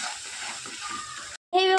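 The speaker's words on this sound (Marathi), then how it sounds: "ते आता भाजून घ्यायचं आपण." Ground masala paste with whole spices fries in hot oil for a chicken dish, a close, dense sizzling hiss that cuts out briefly, then resumes as a louder, bubbling spatter.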